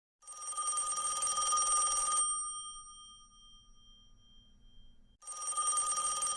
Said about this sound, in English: Is the phone actually ringing this week?